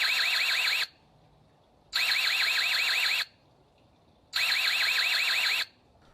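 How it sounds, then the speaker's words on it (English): Electronic alarm demonstrated in three loud bursts of rapid warbling tone, each about a second long and separated by short silences; no voices. "Next, we're going to show you guys the alarm."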